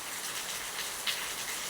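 Rain falls steadily at about four in the morning, a dense, even hiss with no let-up and no voices.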